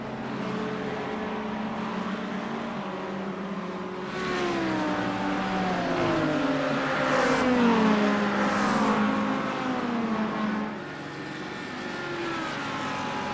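Race cars at Monza run in slipstream past the listener, their engines swelling from a distant hum into a louder, overlapping drone of several passes, then fading again.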